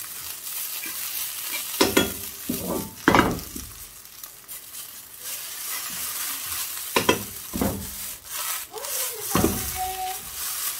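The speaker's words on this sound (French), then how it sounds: "Petite pointe comme ça de curcuma, voilà. On va mélanger rapidement." A spoon scrapes and stirs through a tuna and potato mixture with a pinch of turmeric in a sizzling pan, with several quick bursts of stirring over a steady low fry and no talking.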